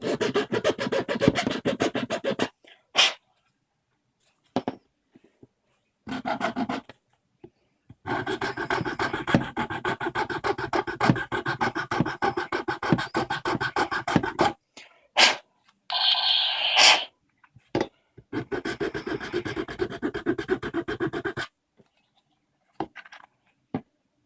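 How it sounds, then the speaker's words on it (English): Hand filing of a plastic toy gun prop, a Dredd Lawgiver MK 2 cosplay build, with a metal file: bursts of close, dry rasping strokes in a rapid back-and-forth rhythm, separated by short pauses, with no talk. "Just going to go ahead and use the file."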